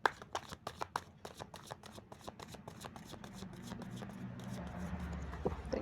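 A deck of playing cards is shuffled close by: a run of crisp, evenly spaced riffles gives way to a denser, continuous shuffling rustle, with no talking.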